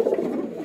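A grizzle racing homer pigeon in a loft gives a soft, low cooing murmur, close and brief, alone without talking.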